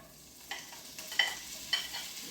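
Carrots, green peas, corn and white onion cooking in melted butter in a pan, with a faint, quiet sizzle broken by a few light stirring scrapes and clinks.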